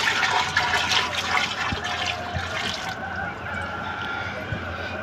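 Water swirled around inside a tank to mix vaccine into it before feeding a poultry nipple drinking line: a steady, close rushing and sloshing that stays loud throughout and eases slightly partway through.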